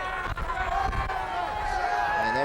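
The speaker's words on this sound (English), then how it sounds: "And there is our crowd" A high school homecoming night football crowd at Rochester Adams cheers in a steady, dense roar of many voices, holding loud and continuous throughout.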